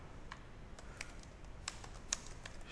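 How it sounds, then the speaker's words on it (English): Quiet, sparse keystrokes on a computer keyboard while a command is entered into a Fortinet firewall, with irregular clicks spaced over a few seconds against a low background hiss. "we go to our Fortinet firewall and we type"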